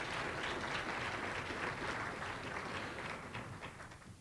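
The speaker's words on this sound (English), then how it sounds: "I think you should give yourselves a round of applause." A celebration audience applauds itself in a soft, steady wash of clapping heard from a distance, fading slightly toward the end.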